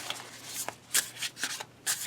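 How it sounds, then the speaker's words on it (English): A tarot card deck is shuffled by hand in a quiet room, giving a series of short, crisp riffling bursts with brief pauses between them. "The way that I want to shuffle, I can do it with this deck."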